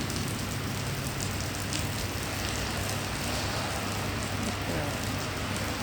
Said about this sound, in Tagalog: Na sobrang lakas ng ulan.